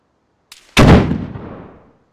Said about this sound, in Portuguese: Troca de tiro atrás de mim aqui.